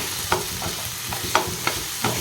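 Spinach and potato curry is stirred in a sizzling pan, a spoon knocking the pan in a few sharp strokes over steady frying, close with no voices.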